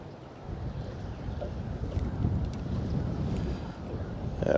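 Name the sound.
wind blowing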